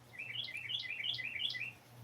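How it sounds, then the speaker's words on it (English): Bright, rapid chirps from a bird outdoors form a lively repeating phrase, fairly loud and close over a faint constant hum, with no voices. "I'd like to see what bird makes that sound."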